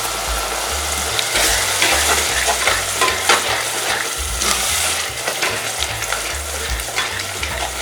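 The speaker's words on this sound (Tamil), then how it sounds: "வெங்காயம் நல்லா உங்களுக்கு வதங்கி மேலே எண்ணெய் வரணும்." Onions sautéing in hot oil in a pan for a Tamil mathi (sardine) fish kuzhambu, a steady close sizzle with repeated scraping and stirring strokes of a spoon against the pan throughout.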